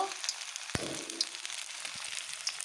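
Pakoras frying in hot oil, a faint, steady, continuous sizzle with a few soft clicks and pops, heard alone without talk.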